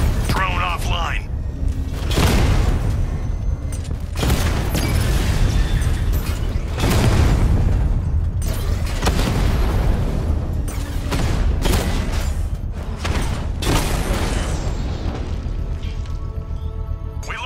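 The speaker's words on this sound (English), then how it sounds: "I can use the power winch to trigger a controlled explosion." Repeated bomb explosions and crackling blasts from Batman Arkham Knight, loud and dense across the whole stretch, with booms and bursts layered under game voices.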